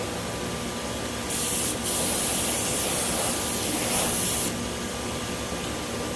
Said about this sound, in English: Just hold up with the air gun.